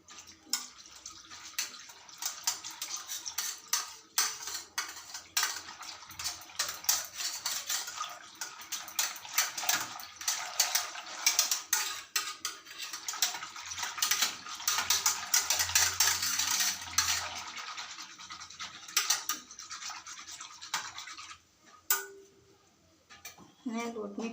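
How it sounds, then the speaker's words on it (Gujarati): Gram flour being stirred into buttermilk for kadhi, a steady wet whisking and scraping against a bowl that runs continuously at moderate level before easing off near the end. "આ છાશમાં 1 વાટકી ચણાનો લોટ નાખીશું અને મિક્સ કરી લઈશું."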